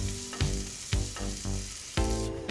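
Onions sautéing in a hot skillet, cooking down until brown and soft: a loud, close sizzle broken by regular stirring scrapes about every half second.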